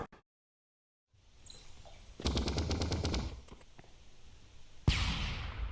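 Video game gunfire in the Vertigo Remastered sandbox: after a short silence, a loud burst of rapid automatic shots runs for about a second, followed by a scattering of single shots and a final sharp blast with a lingering tail.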